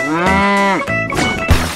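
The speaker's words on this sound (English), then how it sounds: "Cow." A cow lets out a long, loud moo up close, followed by a couple of shorter bursts of animal sound, with no talk over it.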